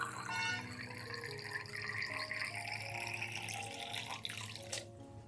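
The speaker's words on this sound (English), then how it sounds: "I will use the twice diluted garlic solution to water directly at the base of the Anthurium plants in the garden" Twice-diluted garlic solution poured at the base of Anthurium plants in a garden, a steady trickling, splashing stream that ends abruptly near the close.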